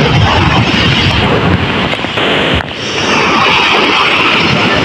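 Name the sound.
strong sea waves and wind at the shore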